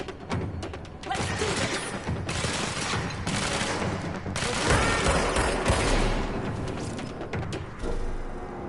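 Shooting in the video game Control produces a dense, continuous barrage of gunfire with heavy thuds and crashes, loud throughout.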